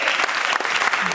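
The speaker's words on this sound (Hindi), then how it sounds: "अगर आपको अच्छा लग रहा हो तो आप तालियां बजाइए" An audience at a comedy poetry show breaks into loud, dense applause, many hands clapping close and continuously with a few sharper claps standing out, and a faint voice may be buried underneath.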